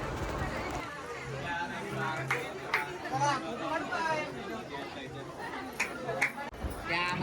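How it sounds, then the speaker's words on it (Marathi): A Sunday crowd chatters at Jejuri fort, with many overlapping voices murmuring nearby among the surrounding shops and a few brief knocks and footstep-like taps. "भरपूर अशी गर्दी होती संडेच्या दिवशी."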